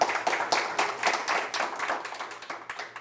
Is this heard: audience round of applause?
yes